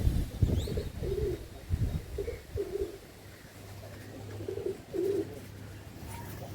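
Domestic pigeons kept by a pigeon fancier in Malda coo in low, soft rounded bursts, several calls spaced a second or so apart, close by, with some handling rustle and light background noise.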